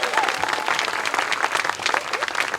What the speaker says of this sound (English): let's give Voices in Harmony and United Harmony Choir a huge round of applause